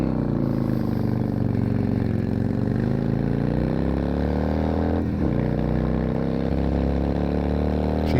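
Engine of a 2002 Yamaha XVS650 V-Star motorcycle with worn piston rings and low compression, running steadily and loud up close, its V-twin drone stumbling as the number one cylinder cuts out, with one brief dip partway through.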